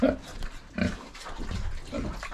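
PIC breed piglets grunting in a wet, crowded pen, a few close, loud grunts and snorts in short bursts with a low rustling between them.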